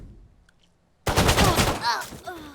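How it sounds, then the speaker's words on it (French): A submachine gun in the video game Valorant fires a sudden, loud rapid burst after a near-silent opening, followed by trailing metallic game sounds. "Ah là, le pistol mitrailleur."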